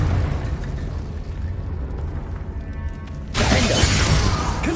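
A Confringo spell in a video game sets off an explosion: a low rumbling buildup, then a sudden loud blast that lingers as a roaring burst.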